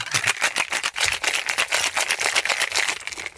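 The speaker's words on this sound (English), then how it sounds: "In the meantime, I'm pouring the drink and we start to shake it." Ice rattles hard inside a cocktail shaker in quick, steady rhythmic shakes, close and fairly loud with no talking.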